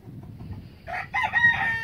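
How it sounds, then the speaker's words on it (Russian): A rooster crows once, a strained, hoarse call rising out of quiet low background noise, close by and fairly loud; a black rooster. "Походу у меня два черных петуха"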